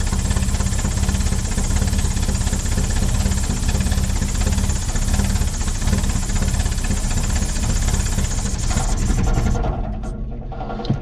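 A 1970 Opel car engine idles after sitting for 41 years, running rough on carburetor fuel; loud, steady close-up rumble with constant vibration, cutting off near the end.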